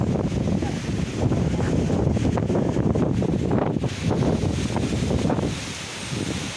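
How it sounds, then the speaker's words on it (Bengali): Strong storm wind blowing across an open field, battering the microphone in loud rumbling gusts that rise and fall, easing toward the end. "এই যে দেখুন হাওয়ার কি বিধ্বংসী রূপ আপনারা দেখতে পাচ্ছেন"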